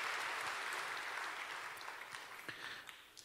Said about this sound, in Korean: 우리 오케스트라 분들에게 아까 박수할 기회도 없었는데 박수 한번